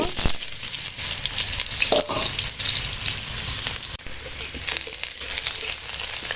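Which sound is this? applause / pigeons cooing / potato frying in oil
potato frying in oil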